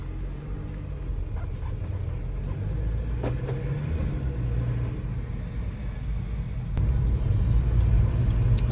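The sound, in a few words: Mercedes-Benz car driving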